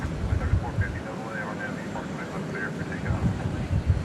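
An Airbus A319 airliner taking off at DFW Airport, a steady distant jet roar with wind noise on the microphone, while someone talks over it.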